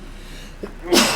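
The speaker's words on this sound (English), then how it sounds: "Oh god, I gotta sneeze." A single close, loud sneeze bursts out at the end after a short intake of breath, with a faint murmur of talk in the background.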